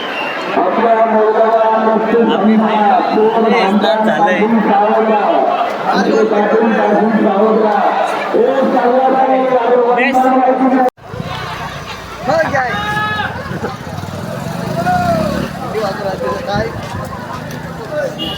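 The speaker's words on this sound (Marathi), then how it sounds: "गर्दी पाहू शकता कशी आहे" A dense pilgrim crowd at Trimbakeshwar temple on a Shravan Monday fills the air with loud, continuous babble of many voices; partway through, the scene shifts to nearer chatter and calls.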